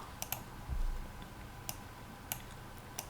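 A computer mouse clicks on an open button, a handful of faint, sharp clicks spaced irregularly over a quiet room background, with one soft low thump early on.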